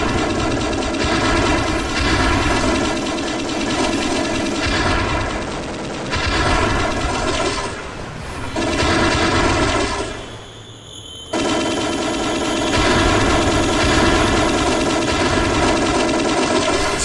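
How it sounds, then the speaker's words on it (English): Sustained rapid automatic gunfire from a shooter video game, loud and continuous with a brief lull partway through before the firing resumes. "Careful, I'm shooting here."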